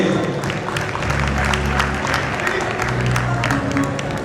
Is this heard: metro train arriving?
no